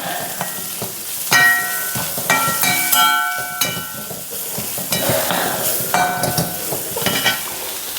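A spoon stirs chili powder into a bitter gourd fish curry in a hot pan, with steady scraping and clinking strokes over a continuous sizzle, close and fairly loud, without speech.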